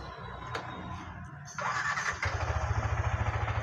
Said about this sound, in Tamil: நம்ம பைக் வந்து ஸ்டார்ட் பண்ணி ஐட்லிங்கில் விடணும்